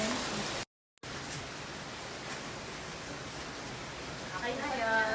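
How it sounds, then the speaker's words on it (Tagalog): Rain falling during a beach walk at Liwliwa, Zambales, as a steady broad hiss of drops that is briefly cut by a gap of silence and then resumes, with faint voices toward the end. "Kahit umuulan"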